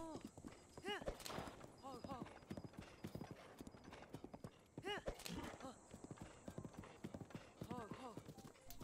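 Horse hooves in The Legend of Zelda: Breath of the Wild clip-clop in a steady galloping rhythm, close and fairly faint, with bursts of whinny-like calls and a person talking over them.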